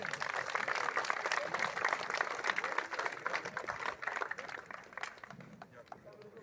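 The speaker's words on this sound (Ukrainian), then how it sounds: "Оплески!" Quiet applause from an audience at a ceremony, rapid clapping at a distance that gradually fades over several seconds, with voices faintly mixed in.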